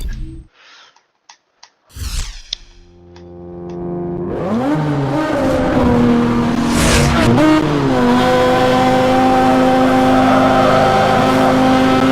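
A Mazda RX-8 in Need for Speed Hot Pursuit Remastered starts after a few clicks, then its engine revs up into a loud, sustained high-pitched rotary howl with pitch swings through gear changes.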